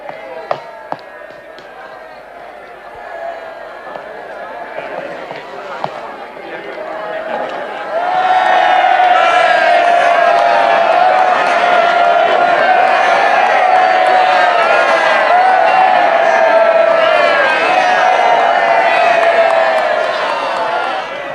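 Crowd cheering for Lord Nelson's carriage: a low murmur for the first few seconds, then a sudden swell into loud, sustained massed cheering and shouting that holds steady to the end.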